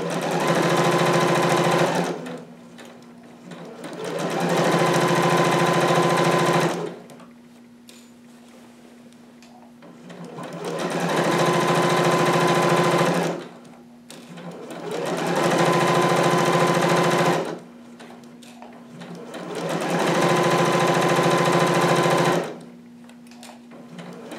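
Sewing machine stitching the center seam of a McCall's 7402 harem jumpsuit, running in five steady bursts of several seconds each with short quiet pauses between, close and loud with no voices.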